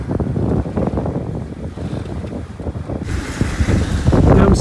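Sailboat under way between Venezuela and Bonaire, with gusting wind buffeting the microphone and waves washing against the hull in a steady rushing roar that grows louder toward the end.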